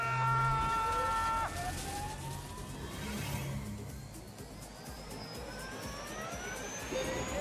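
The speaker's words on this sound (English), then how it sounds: "Oh, that car is quiet!" An electric car launching hard in The Grand Tour Game, a quiet whine whose pitch climbs steadily as it accelerates, with tones rising over a low road hum.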